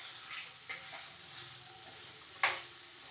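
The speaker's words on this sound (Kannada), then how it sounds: "ಹಿಂಗೆ ಎಲ್ಲ ಒಗ್ಗರಣೆ ಎಲ್ಲ ಹೊತ್ತಂಗೆ ಚೆನ್ನಾಗಿ ಊರಾಡಿ ಬೇಯಿಸಬೇಕು ಮುಚ್ಚಳ ಮುಚ್ಚಿ" Chayote pieces sautéing in a hot tempering, with a soft sizzle and a few scraping stirs, the loudest near the end, quiet overall.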